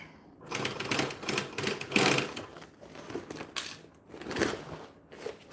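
A sewing machine stitching a bag seam runs in short, rapid bursts of close mechanical clatter, speeding and slowing with brief gaps between runs, no voices.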